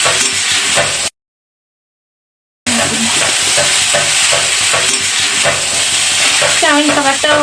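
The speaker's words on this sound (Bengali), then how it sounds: "জিরে নামিয়ে ডিম ঢেলে দিই" Egg poured into a hot pan after the cumin is taken off, sizzling loudly as it fries and is stirred, with scraping stirs and clinks running steadily after a brief gap of silence.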